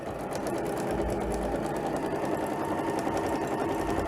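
A sewing machine runs steadily and close, stitching binding along the edge of a quilt, a continuous rapid needle chatter with a low motor hum and no talk.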